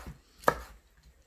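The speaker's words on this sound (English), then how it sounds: "So now I'm going to chop my beans." A single sharp knife chop through beans on a cutting board, close and crisp, with quiet moments before and after.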